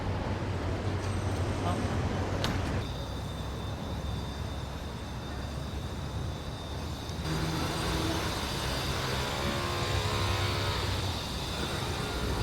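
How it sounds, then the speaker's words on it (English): Continuous roar of city traffic in Kuala Lumpur with engines passing and a low rumble, a steady wash of street noise throughout. "There is some construction here and there, some traffic."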